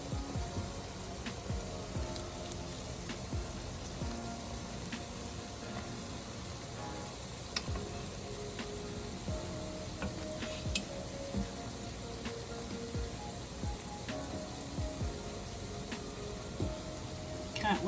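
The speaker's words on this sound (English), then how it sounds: "When you fry it, you got golden brown." Plantain slices fry in a pan, a continuous faint sizzle with small crackles running steadily throughout.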